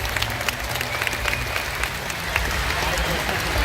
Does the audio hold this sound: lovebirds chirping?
no